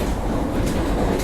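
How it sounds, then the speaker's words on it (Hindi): The New Delhi–Rajgir Shramjeevi Express thunders past at close range, a loud, unbroken roar of rolling wagons and clattering wheels with no voices. "ये जा रही है श्रमजीवी एक्सप्रेस, नई दिल्ली राजगीर श्रमजीवी एक्सप्रेस गई है।"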